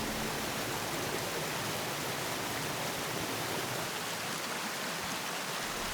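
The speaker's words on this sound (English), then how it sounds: "a set of falls that are simply extraordinary to observe" Doyle's River Falls in Shenandoah National Park in the Blue Ridge Mountains gives a steady, dense rush of falling water, a constant broad roar with no pauses and no voices.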